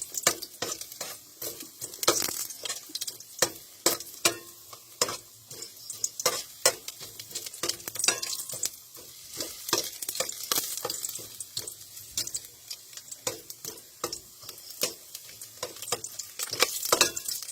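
Ginger sautéing in a pan as the first aromatic for a shellfish dish, a continuous crackling sizzle overlaid with rapid, busy scraping and tapping of a spatula throughout, fairly close, no voices.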